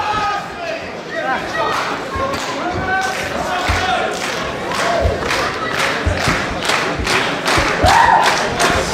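Wrestling crowd at a match between two wrestlers roars and cheers steadily, dense and loud, with sharp thuds and slaps from the ring punching through the din and voices shouting throughout.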